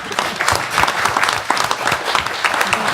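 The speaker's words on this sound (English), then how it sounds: "So you started with a round of applause. You probably can get a second one." Steady applause from an audience at a jury improvement lunch in Oakland, a full, continuous round of clapping with no talk over it.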